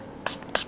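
Makeup setting spray misted on during a natural makeup routine: two short, crisp hissing spritzes about a quarter second apart, close and fairly quiet.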